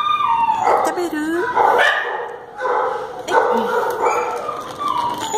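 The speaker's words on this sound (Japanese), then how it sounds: "この子はピットブルとジャーマンシェパードの犬の子。" A pit bull and German shepherd mix dog barks and yelps in a busy shelter among other dogs, loud and close, while a person talks over the noise.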